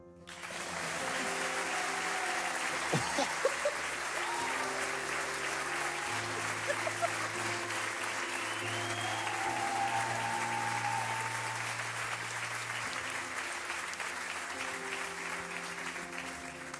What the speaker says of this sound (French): Merci d'accueillir, sous vos applaudissements, Kenzo.